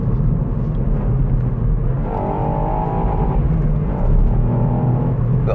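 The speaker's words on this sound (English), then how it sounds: "it makes a nice little noise, this engine" A Ford Fiesta ST's 1.5-litre three-cylinder engine hums steadily from inside the cabin while driving, with a rising rasp as it pulls under throttle.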